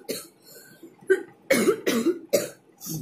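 Several sharp coughs in quick bursts, close and loud, separated by short quiet gaps.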